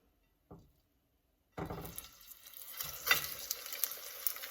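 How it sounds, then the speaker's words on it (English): After a brief knock, a steak hits a hot pan and a loud, crackling sizzle starts up and keeps going with pops and spatters. "And that's what you should hear. That sizzle."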